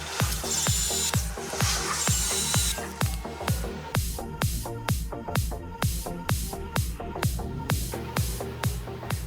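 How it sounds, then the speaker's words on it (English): Power drill boring a hole through trailer metal, a loud, steady run of repeated rhythmic grinding pulses close to the listener, with no talk. "then I'll drill it out"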